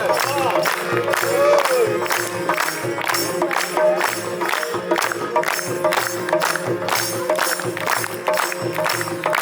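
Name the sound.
loud audience applause at a play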